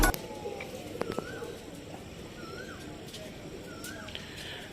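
A loft holding a new batch of about fifty pigeons gives off faint, low cooing under a busy, rustling background. A few brief clicks and thin chirps come through the murmur.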